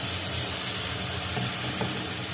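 A steady, broad hiss of ground coconut paste frying in a hot pan for a potato curry, constant and close with no voices.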